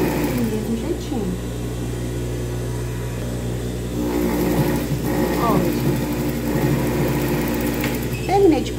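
A sewing machine stitching children's overalls, a continuous mechanical whirring and ratcheting hum up close, with someone talking over it.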